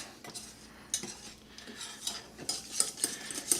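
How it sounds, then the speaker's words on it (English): Butter and flour whisked together in a pan for a roux destined for lasagna béchamel: quiet, irregular metallic taps and scrapes of a whisk against the pan, growing busier toward the end with a soft sizzle underneath. "It's just butter and flour. Whisk them together."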